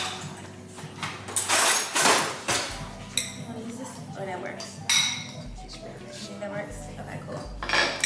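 Silverware and dishes clink and clatter in a home kitchen during cooking, in quick scattered bursts under ongoing talk.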